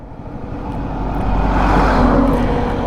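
A TVS Jupiter 110 scooter engine starts and settles into a steady, low idle hum that grows slightly louder and holds close by, with no talking.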